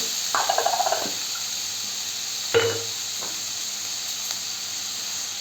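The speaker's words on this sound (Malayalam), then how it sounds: "അതിലോട്ട് ഇനി പച്ചമുളക്, ഇഞ്ചി വെളുത്തുള്ളി പേസ്റ്റ് അരച്ച് വെച്ചത്" Green chili and ginger-garlic paste hit hot oil in a pan with onions, giving a sharp sizzle that flares briefly, then settles into a steady, quiet hiss with a second short burst.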